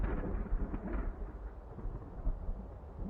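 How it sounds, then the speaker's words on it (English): Low rumbling thunder in a storm, a deep continuous rolling boom with irregular swells, moderately loud and alone. "over the boom of thunder and the storm"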